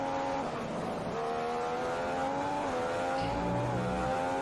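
Formula 1 race cars in the F1 2015 video game at the Hungarian round: a steady, loud high-revving engine whine shifts pitch through gear changes, with other cars faintly audible around it.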